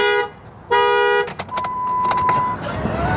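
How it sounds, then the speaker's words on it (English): A car alarm goes off on a 2005 Chrysler 300 with leather interior, sounding loud, close repeating electronic tones in pulsing bursts, with a steady tone sustained over vehicle noise. "Every now and then you gotta have an alarm go off."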